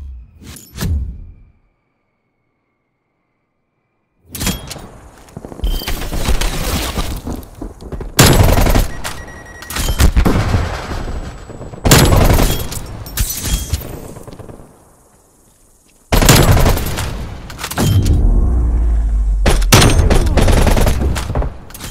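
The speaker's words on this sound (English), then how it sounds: "Hostile sentry turret active." Automatic sentry turret gunfire in a video game, loud bursts of rapid shots in several long volleys separated by short pauses, with occasional booms and shattering impacts.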